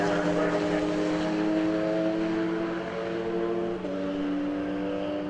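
Smart ForTwo cars racing at Silverstone in the 4Two Cup, with a steady, droning engine whine held at near-constant pitch and a brief shift in tone partway through as the cars run on.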